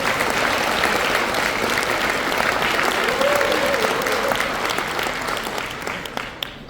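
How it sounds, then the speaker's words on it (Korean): Sustained applause from an audience at a year-end gathering in a hotel ballroom, a dense even clapping that carries steadily before tapering off at the end. "큰 박수 한번 올려드렸으면 좋겠습니다"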